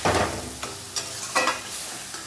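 Fried potatoes with vegetable masala being stir-fried in a pan, a soft sizzle under several distinct scraping strokes of a spatula at an uneven pace, close by.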